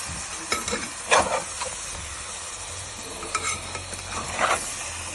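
A spoon works tomato onion paste into pieces of fish in an Andhra-style fish curry, giving soft scraping strokes over a steady hiss of sizzling in the pan, with no voices.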